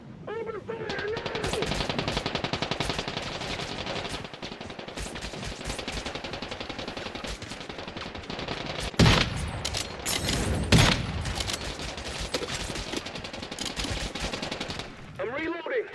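Rapid bursts of automatic gunfire from the video game Once Human rattle loudly and almost continuously, with sharper heavy shots standing out midway, while a player's voice is heard over the shooting.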